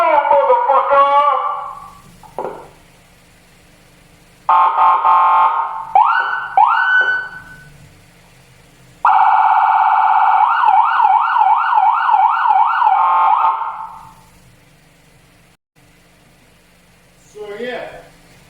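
Police-style siren upgrade fitted to a 2008 Dodge Avenger, sounding loud and close in bursts: short yelps and wails, then a long rapid warbling tone, then falling quiet, heard in an enclosed unit.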